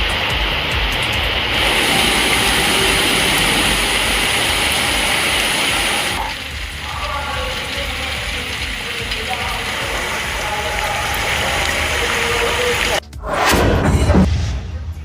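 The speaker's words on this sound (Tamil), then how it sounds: "இதனால் சாலைகளில் மழை நீர் வெள்ளம் போல பெருக்கெடுத்து ஓடியது." Heavy rain pours in Tharangambadi with rainwater flooding the roads, a dense continuous roar that drops to a softer hiss midway, then a brief loud burst near the end.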